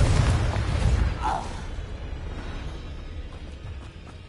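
Confringo blasting spell from Hogwarts Legacy bursts in a loud boom at the start, then rolls off into a fading rumble that lasts a few seconds.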